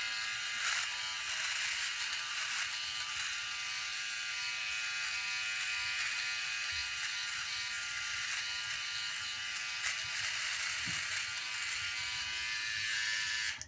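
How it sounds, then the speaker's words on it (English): An OneBlade electric shaver buzzes steadily and close up as it trims a mustache and the skin around the lips, a continuous high whirr with faint scraping variations and no speech. "I'm going to shave this, I'm going to eliminate the mustache, and I'm going to shave all the areas around my lips"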